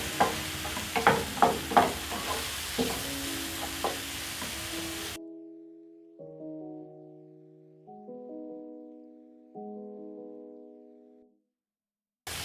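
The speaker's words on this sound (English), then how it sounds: "Then I'm going to stir." Spoon scraping through lentil curry in a pot after paprika, cumin, curry powder and seasoning cubes go in: several distinct stirring strokes over a soft sizzle, then quiet sustained musical tones take over.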